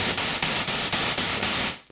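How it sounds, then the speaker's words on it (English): White noise from Logic's Retro Synth software synthesizer, a loud, bright hiss pulsing in regular retriggered bursts about four times per second before fading out, with no talking. "It's got white noise,"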